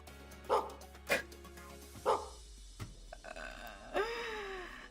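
A dog barks several times in close succession, loud and near, with short gaps between the barks and a longer yelping bark near the end.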